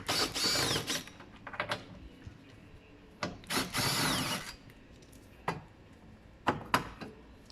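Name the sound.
power drill removing T30 Torx headlight screws, VW Scirocco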